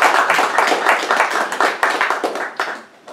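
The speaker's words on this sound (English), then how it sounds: "I think we should give Chap Meeker a round of applause for doing that." Round of applause from an audience at a talk on military chaplaincy, dense steady clapping that holds loud and close, then thins and fades toward the end.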